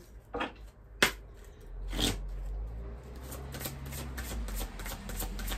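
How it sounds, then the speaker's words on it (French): A deck of oracle cards is shuffled by hand with a few sharp slaps and riffles. Then comes a steady, continuous papery shuffling, close and fairly quiet over a low background hum. "On va prendre une carte de l'oracle à haute vibration"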